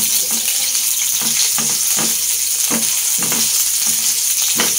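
Onions frying in oil in a pan give a loud, constant sizzle, with regular scraping strokes of a spatula stirring them.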